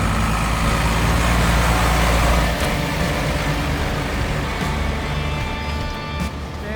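A Unimog truck pulls away at a shipping port gate, its loud low engine rumble droning close at first, then easing and thinning as it moves off.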